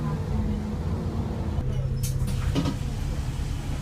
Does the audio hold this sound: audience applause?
no